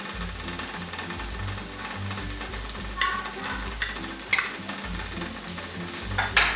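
Grated coconut roasting in a pan with browned onion for a coastal Karnataka crab sukka, producing a continuous crackling sizzle with occasional sharper scrapes and taps, over a steady low drone of background music.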